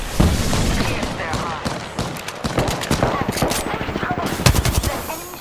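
Rapid gunfire crackles in the battle royale game Apex Legends, with dense bursts of close automatic shots and single cracks continuing throughout and voices speaking in between.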